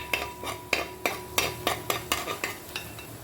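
Ingredients sautéing in a pan for chicken curry, with a spoon stirring in quick, regular strokes that scrape and clink close up over a soft sizzle.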